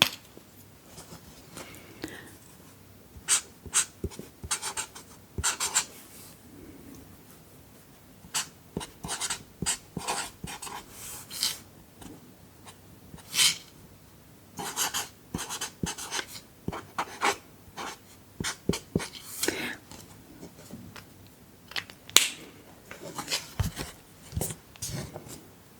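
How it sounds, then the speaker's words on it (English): Pen scratching across paper in bursts of close, quiet strokes with short pauses, a soft-spoken language lesson setting with faint background hush. "So, I'll write that down."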